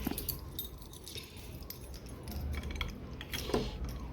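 Keys and a padlock jangle and clink while a gate is locked during a trip to a canteen for household supplies, close and quiet, in irregular metallic rattles without talk.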